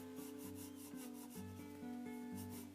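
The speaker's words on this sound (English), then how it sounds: "this one maybe I will burnish with a peach" A colored pencil in peach burnishes a grayscale Cinderella drawing, making soft, faint, rhythmic rubbing strokes over a steady low background tone.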